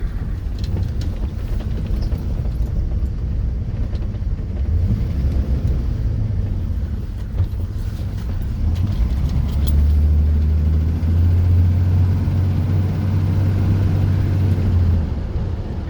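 A 1982 Ford F150 Bullnose truck drives along with its engine holding a steady, low rumbling drone inside the cab, the pitch rising and settling as it changes speed.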